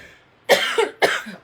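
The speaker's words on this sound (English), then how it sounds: "I apologize if you're going to hear me coughing." Two quick, harsh coughs close to the mic, one after the other in a short burst, with a brief quiet gap before and between.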